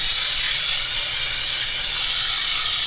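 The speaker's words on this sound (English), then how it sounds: "so I'm going to flip the steaks" Steaks in a Thai pepper and garlic marinade sizzle loudly in a hot pan after being flipped, a steady, close, unbroken hiss.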